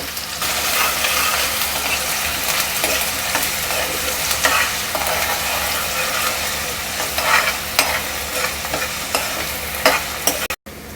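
Finely chopped onions frying with bay leaf and curry leaves in a pan for chicken sukka, a continuous close sizzle with scraping stirs and occasional clicks, no voices.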